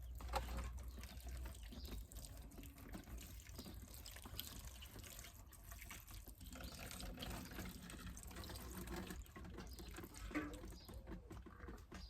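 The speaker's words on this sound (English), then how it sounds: "I'm just going to give it a wee water just so that the compost can settle properly." Water poured from a watering can onto compost in a plant pot for dahlia cuttings, a faint continuous trickle and splash that runs steadily throughout and is heard alone without talk.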